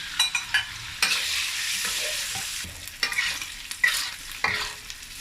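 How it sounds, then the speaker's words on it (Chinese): Small diced pork frying in hot rapeseed oil in a wok gives a steady loud sizzle, broken by sharp scraping stirs of the spatula and sudden hissing bursts. "热锅倒油，倒菜籽油， 倒入小肉丁儿"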